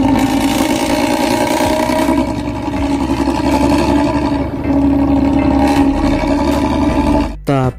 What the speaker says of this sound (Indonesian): masih ingat dengan knalpot ngorok Luragung yang ini?